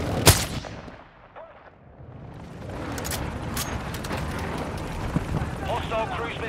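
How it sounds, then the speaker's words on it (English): Airstrike explosions in Call of Duty Modern Warfare 2 multiplayer: rumbling booms and crackling blasts roll on continuously after a sharp initial crack, with a voice heard over the chaos. "Hostile airstrike near your location"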